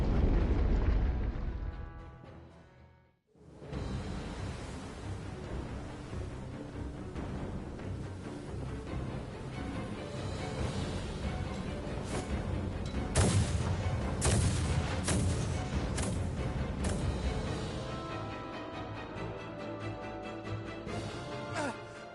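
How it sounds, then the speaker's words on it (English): Star Ocean 6 naval bombardment and artillery explosions boom and rumble continuously for a long stretch, with heavy blasts layered over a dense roar after a brief drop near the start. "Their unceasing bombardment is laying waste to our forces."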